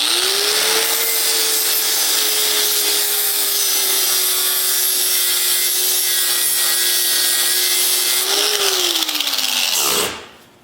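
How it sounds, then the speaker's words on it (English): An angle grinder fitted with a flap disk grinds down a steel weld in a loud, sustained whine with a harsh scraping hiss, holding steady before the pitch dips and the sound cuts off abruptly at the end. "we're going to use this to get a nice smooth finish and grind off this weld really quickly"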